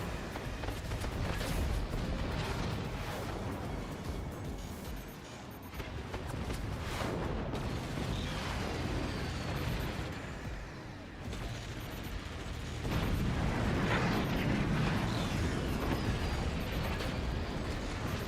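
Mortar weapon blasts rumble through a match of a team vehicle-combat video game tournament, with dense, continuous booming explosions and mechanical din filling the whole stretch, loud and close with brief dips between heavy barrages.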